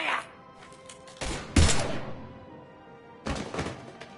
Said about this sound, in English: Now open fire!